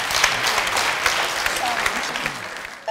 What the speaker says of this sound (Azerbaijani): Alqışlarınız da təbii ki